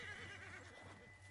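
A horse in Red Dead Redemption 2 gives a loud, close whinny lasting a little over a second, with wavering harmonics over a steady low hum and no talking.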